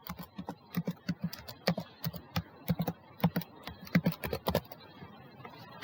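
Fingers type a password on a computer keyboard in quick, irregular bursts of close, crisp keystrokes. Brief pauses fall between runs, with no voices.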